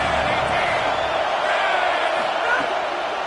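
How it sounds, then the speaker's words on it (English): Football stadium crowd roaring behind the defense on a third down in a college football game, a dense, steady wall of cheering and noise that swells slightly, with a broadcast voice faintly mixed in. "Decibels rising as the crowd gets behind this defense on third down."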